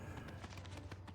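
Horse hooves clop in a quick, steady rhythm in the video game Oblivion Remastered, the game's ambience running faintly beneath the galloping footfalls.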